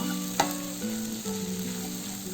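A mashed potato samosa filling fries in a pan with a soft, even sizzle, a single sharp clink from a utensil early on, no talking.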